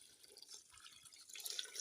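Water poured into a container while turkey berries are prepared, a soft, fairly faint trickling wash that grows louder toward the end, with no voices.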